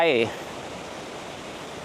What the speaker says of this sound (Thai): น้ำตกแม่วะครับ